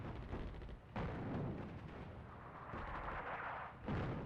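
Air force bombing attack in a World War II North Africa strategy game near El Alamein: continuous low rumbling blasts and booming detonations, rolling and overlapping, moderately loud and steady throughout.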